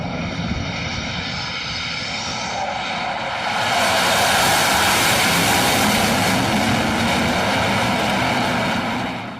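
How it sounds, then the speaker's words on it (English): Su-33 fighter jet aborting its landing on an aircraft carrier, a loud, sustained engine roar that swells and brightens midway as the power comes up, with no talking. "this Su-33 that had to abort its landing and almost struck the aircraft carrier"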